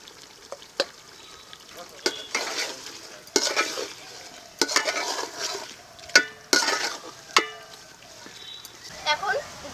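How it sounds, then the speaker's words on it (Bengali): Chicken for chicken dum biryani being sautéed with chopped tomato in a pan, soft sizzling broken by repeated sharp scrapes and clanks of a utensil against the pan, with occasional speech. "এখন মাংসটাকে ভালো করে কষিয়ে নেব"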